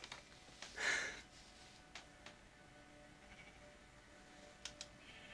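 A single synthetic Minecraft sheep bleat sounds early on, faint and brief, followed by a few soft clicks against near silence.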